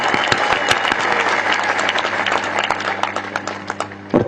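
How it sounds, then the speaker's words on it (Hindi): A live audience claps loudly and densely, a sustained burst of applause that thins into scattered individual claps near the end, with no talking over it. "ये गलत जगह ताली बजाई आपने"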